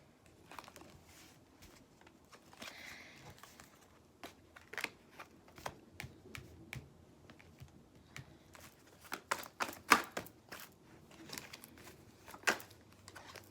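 Tarot cards are shuffled softly up close to draw clarifier cards, giving scattered flicks and riffling snaps that grow busier toward the end, with no voices.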